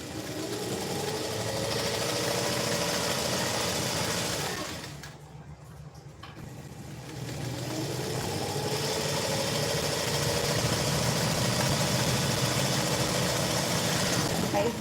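A sewing machine stitches a seam on a princess-cut blouse in two long, steady runs split by a short pause. The motor hum stays close and loud throughout.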